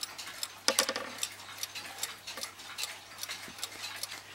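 A Smiths bakelite clock ticks in a steady, even rhythm, fairly close and quiet, with a sharper knock near the start and a low background hum throughout.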